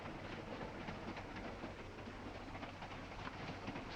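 A passenger train rolls along its rails toward Washington in a 1943 film scene, a steady low rumble with faint rhythmic clatter and hiss, quiet and continuous, ending in a sharp brief noise.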